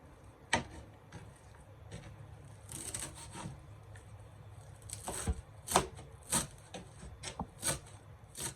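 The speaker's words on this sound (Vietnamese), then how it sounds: "Ngò gí này mình cũng xắt nhuyễn ra luôn." Fresh cilantro being finely chopped with a knife on a board, an uneven series of crisp taps and short rasping strokes that grows busier toward the end, close and fairly quiet, with no talking.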